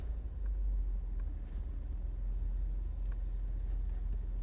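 Inside a moving car, a steady low engine and road rumble drones continuously, close and fairly quiet, with no talking.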